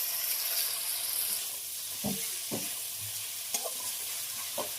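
Steady sizzle of cashews, coconut and raisins frying in spices in a pan with a few scraping stirs of a spatula, close and unbroken by talk.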